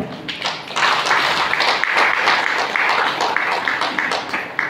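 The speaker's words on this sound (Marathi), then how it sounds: "सर्वांनी टाळ्या वाजवायच्या आहेत." A crowd at an outdoor groundbreaking ceremony for a water supply scheme bursts into loud, sustained applause, a dense wash of many hands clapping together for several seconds.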